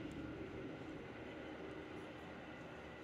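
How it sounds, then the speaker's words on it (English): A train passes just outside a home beside the tracks, a steady, heavy rumble that fills the space without letup. "sorry, train outside."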